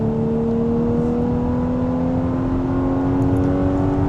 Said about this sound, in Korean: 여기서 한번 좀 모드를 바꿔서 한번 좀 달려보겠습니다.